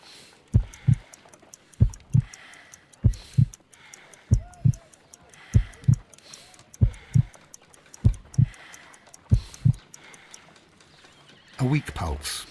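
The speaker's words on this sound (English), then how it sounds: "I need to concentrate and count the heartbeats." A slow heartbeat from the Sherlock Holmes: Crimes and Punishments video game thumps in paired beats, about nine even double pulses, low and distinct against a quiet background, with a brief burst of other noise at the end.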